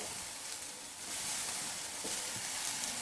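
Tomatoes are added to browned onions in a hot pan for a Kolhapuri misal masala, raising a steady, close, hissing sizzle that holds throughout with no talk.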